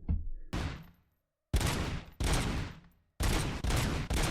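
Gunfire at a shooting range in RoboCop Rogue City, loud close bursts of automatic shots in several groups with short pauses and one clear silence between them.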